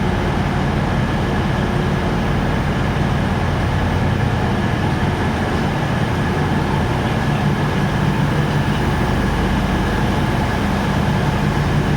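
Steady rumble of a TransPennine Express Nova 3 train running between Scarborough and Manchester Piccadilly, heard from on board: continuous low wheel and engine drone with broadband rail noise, constant level throughout and no talking.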